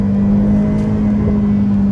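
A 2020 Ferrari F8 Tributo mid-engine V8 driven hard, a loud steady engine drone with a strong sustained tone heard from inside the car, continuous with no talk.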